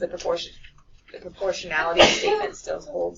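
A single sharp sneeze bursts out in a precalculus classroom, briefly cutting through the teacher's ongoing lecture.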